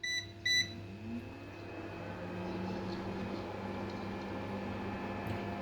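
An electric kitchen stove gives two short, bright beeps as it is switched on. A steady low hum and faint whine then continue from the stove.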